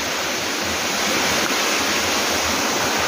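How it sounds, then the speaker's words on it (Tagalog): Tsuen Wan waterfall at Tao Kung Tam Park pours in a dense, constant rushing roar, close and loud with no break. "Nandito kami ngayon sa Waterfalls, Chonuan Waterfalls"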